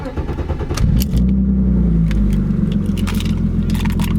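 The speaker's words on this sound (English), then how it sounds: "A cold start for you guys," An Acura RSX / Honda EP3 four-cylinder catches on a cold start, a quick crank and bark before it settles into a loud, steady high idle, heard up close.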